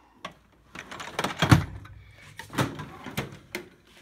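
A metal toolbox drawer holding lathe tooling and high-speed steel slides open in a workshop, giving short scraping rattles and light clinks of loose tools, close and fairly faint, in uneven bursts.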